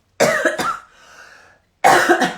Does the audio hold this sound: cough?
yes